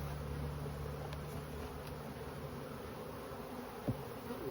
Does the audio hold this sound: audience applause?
no